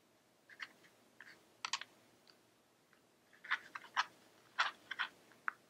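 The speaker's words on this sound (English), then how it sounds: "So I'm going to go ahead and cut my excess off." A knife slices through excess fondant trimmed from Victorian fashion-inspired cupcakes, giving a series of soft, close clicks and scrapes in short bursts, quiet and alone with no talking.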